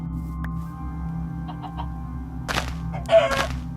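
Chicken in Minecraft clucks in a few short, close blips, followed by louder scratchy flutters near the end over a steady game background hum.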